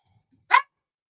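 One quick, sharp sneeze close by, a single burst in otherwise near silence.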